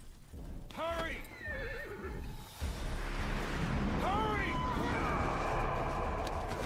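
Horse whinnies and neighs over clip-clopping hooves in the Metal Gear Solid 5 video game, with two distinct whinnies separated by a steady galloping rumble and wind-like noise.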